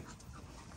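A dog pants in a steady, rapid rhythm outdoors on a sunny day. The sound is brief and faint, with no one speaking.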